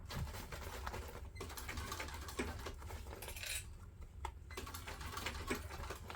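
A cylinder arm sewing machine stitches quickly through a backpack, quiet rapid mechanical chatter with metallic clicks and brief pauses as the heavy fabric shifts.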